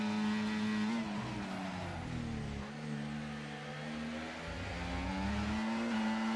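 An F1 race car in the F1 24 video game, heard onboard at the Red Bull Ring, whines at high revs with repeated gear shifts and dips in pitch, loud and steady with no talk.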